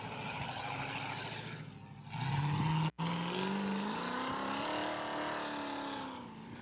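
A Fox body Mustang at a drift event sends out a loud, close engine roar that climbs in pitch as it revs, cuts off abruptly, then returns with a rising, sustained drone.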